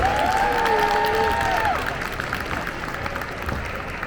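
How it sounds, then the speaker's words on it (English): Applause and cheering from a large convention crowd at a fan expo Q&A panel fills a dense, steady wash, with a few voices calling out over it before the clapping thins slightly. "Let's give everyone here a round of applause for getting back out here and doing cons again"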